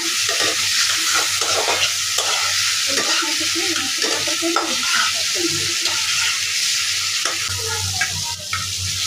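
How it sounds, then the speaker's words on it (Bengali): Three pieces of already-fried hilsa fish sizzle loudly in a pan as they are stirred. Constant close frying crackle runs under repeated scraping and turning strokes. "3 পিস ইলিশ মাছ দিয়ে দিচ্ছি"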